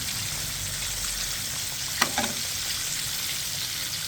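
Kentucky-style chicken frying in hot oil, a quiet continuous sizzle with a brief sharp clack near the middle.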